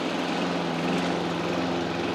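A lawn mower engine runs steadily and loudly up close, a continuous droning hum with no pauses while mowing a lawn in spring.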